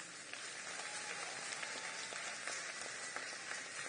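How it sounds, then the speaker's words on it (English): An audience at a hula performance event applauds the dancers with steady, fairly faint clapping that holds evenly throughout, with no talk over it. "can I have a round of applause for the ladies?"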